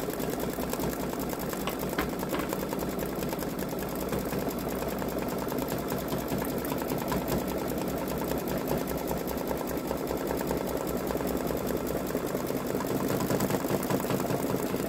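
A Babylock Solaris Vision embroidery machine stitches outlines on a Ninjago design, a steady rapid mechanical chatter of the needle running continuously at an even, fairly quiet level.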